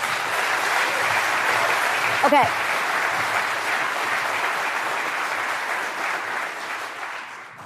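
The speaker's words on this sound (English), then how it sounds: "Please give him a round of applause." Steady audience applause at a talk event, a broad even wash of clapping lasting several seconds, with a brief spoken word cutting through partway before the applause slowly tapers.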